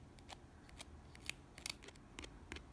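Scissors snip through false eyelashes with a series of quick, crisp, close clicks at an irregular pace, a couple of them louder, against a quiet background.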